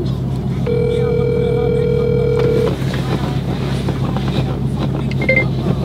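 A voicemail beep sounds as a single steady electronic tone lasting about two seconds over a windy, rumbling background hiss.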